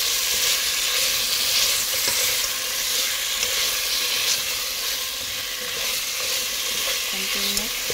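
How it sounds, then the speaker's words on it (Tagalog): Shrimp sauté in a pan for ginataang hipon, giving a loud, continuous sizzle with spatula scraping and stirring running throughout. "magluluto tayo ulit ng ginataan hipon"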